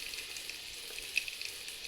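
Whole spices roast in a pan for patodi bhaji, making a soft, steady frying sizzle with faint crackles and small pops, close by and without voices.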